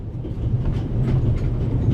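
Moving train ambience from the video game The Raven, a steady low rumble with faint rattling of the carriage, continuous and even with no voices.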